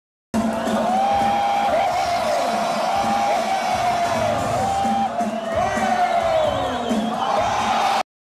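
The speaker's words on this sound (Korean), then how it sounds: "야유하던 관중석에선 환호가 쏟아지고" A packed crowd at a b-boy dance battle roars and whoops continuously, loud and dense with high shouts rising over the din throughout.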